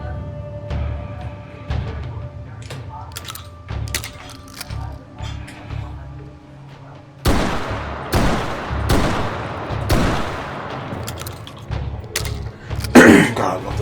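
Gunfire in the VR game H3VR comes as a series of sharp, loud single shots, a few spaced out early on, then a quicker run of blasts with short echoing tails.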